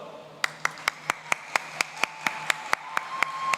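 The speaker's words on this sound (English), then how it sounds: "30, round of applause." Audience at a university welcome-week community service conference clapping in a sparse, evenly spaced rhythm of about fifteen sharp individual claps, fairly close and moderately loud.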